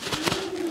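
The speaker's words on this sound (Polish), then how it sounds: "To jest przepiękny gołąb." Racing pigeon cooing, a short low steady coo held through the moment, close and fairly quiet with no talk over it.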